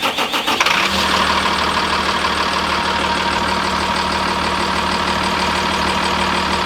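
A school bus engine cranks with a few brief stuttering turns, then catches and settles into a loud, steady idle rumble that continues unbroken to the end, with no talking.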